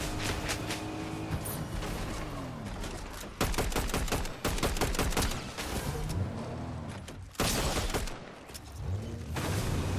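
Assault rifle fire in Fortnite Zero Build, rapid bursts of sharp repeated shots in several volleys with short pauses and ringing echoes between them.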